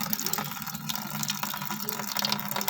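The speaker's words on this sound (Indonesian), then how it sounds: "itu caranya dibuka keran" Liquid organic urea gushes steadily from an opened tap during harvesting, a continuous splashing, rushing flow heard up close without a break.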